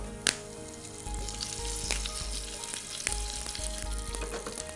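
Curry leaves and dried red chillies sizzle in hot oil as a tempering for poha, giving a close, crackling fry with sharp pops over a steady hiss and no voices.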